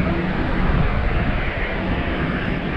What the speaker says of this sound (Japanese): お、なんか飛行機飛んでますね。